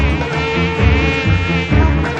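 Close, loud buzzing of flies in a Telugu comedy film, a steady droning whine with a few swooping dips as the insects pass near, with no voices over it.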